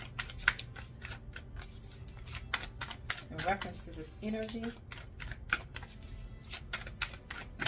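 Rapid crisp flicking and slapping of tarot cards being shuffled, in uneven bursts, with a person speaking quietly between them.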